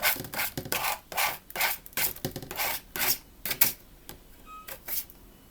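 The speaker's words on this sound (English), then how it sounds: "just scrape all this off your mat in your little trash can" Paper scraps are scraped off a Cricut cutting mat with a tool. Close, soft rasping strokes repeat in a quick, uneven rhythm, then slow and thin out toward the end.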